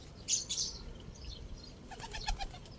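Pigeons flap their wings at a loft trapdoor in a couple of quick fluttering bursts, close by, with faint chirps and soft cooing between them.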